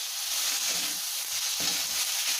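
Rui fish and tomato curry sizzles in a pan, a steady frying hiss with soft intermittent scraping as a spoon stirs the spiced mixture.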